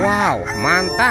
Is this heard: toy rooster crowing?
yes